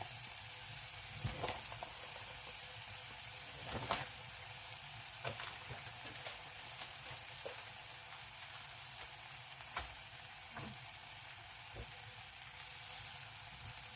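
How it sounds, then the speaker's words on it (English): Cheese frying in a pan with tomato and jalapeno, a steady close sizzle with scattered pops and crackles running throughout, no voices. "Just going to put a bit of cheese on it. It goes in the pan."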